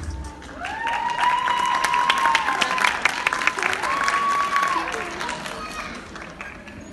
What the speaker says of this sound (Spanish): un aplauso para One Step